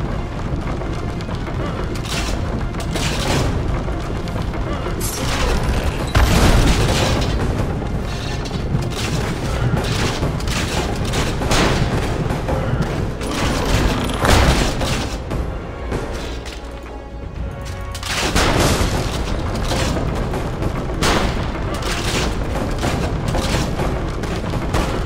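Heavy artillery and gunfire in Assassin's Creed Revelations, a loud, dense barrage of booms, crashes and shots that continues almost without pause, briefly thinning near the middle.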